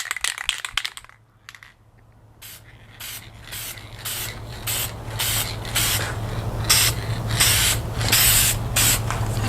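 Repeated short hissing bursts from a spray can of vinyl paint applied to lettering on a Seahawk 4 inflatable boat, close and fairly loud, the rhythmic sprays coming faster and denser over a low steady hum.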